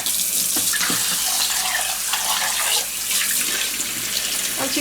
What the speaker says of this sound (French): Et ensuite, on va passer de l'eau pour enlever les autres.